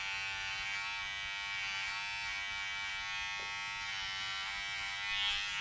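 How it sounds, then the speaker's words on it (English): An electric hair trimmer buzzes steadily and close up, with a constant high-pitched hum, while cutting hair for a buzz cut with the guard lever open; no one speaks. "Notice how I'm holding the trimmer with my thumb really close to the blades for extra precision"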